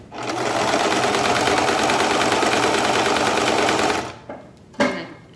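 Sewing machine stitching folded fabric for a handmade tie-on mask, a loud steady whirring run of close stitches for about four seconds, then stopping with a few brief handling clicks.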